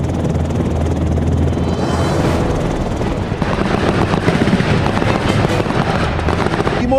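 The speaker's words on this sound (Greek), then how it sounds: "Χρησιμοποιούν ταχυκινησία και ισχυρά πυρά σε συνεργασία με επιθετικά ελικόπτερα Απάτσι της αεροπορίας στρατού" Apache attack helicopters roar continuously with heavy rotor noise while rapid gunfire crackles throughout, loud and dense, during a nighttime army combat exercise.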